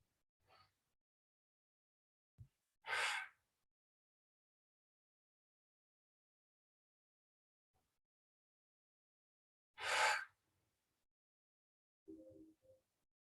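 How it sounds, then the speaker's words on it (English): A person breathing deeply during a stretching workout: two separate audible breaths, each a soft close rush of air, with long near-silent gaps between and a faint murmur at the end. "Nice big deep breath in and out."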